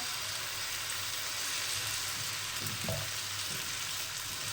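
Dosa batter sizzles on a hot pan in a continuous, even crackling hiss, close and steady throughout, with a faint scrape partway and no talking.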